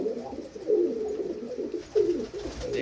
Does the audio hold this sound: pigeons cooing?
yes